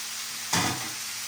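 Drained tinned chickpeas go into a hot pan of sizzling peppers, a steady close hiss that swells suddenly into a brief louder burst of crackle as they land, then settles.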